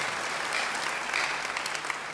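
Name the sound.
church congregation applauding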